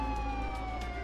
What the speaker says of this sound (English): Siren is on.